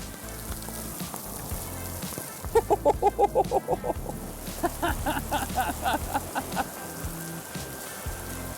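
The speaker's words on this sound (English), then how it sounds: "Well, now it's raining." Steady rain falling in the town of Liberec, a continuous patter under bursts of rhythmic clucking or tapping sounds that come in quick runs.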